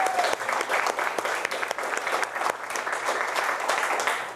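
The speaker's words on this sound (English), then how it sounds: "Y'all give them a round of applause for me." Applause from a crowd gathered at a wellness center ribbon cutting, a steady dense patter of clapping that holds fairly loud throughout with no voices on top.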